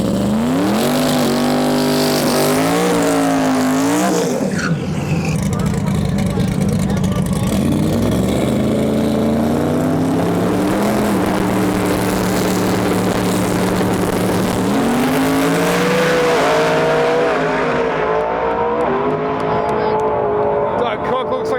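A drag racing car at Sick Week, suspected of transmission or torque converter trouble, roars hard down the strip, its engine pitch climbing through repeated shifts, loud and near, with talk mixed in underneath.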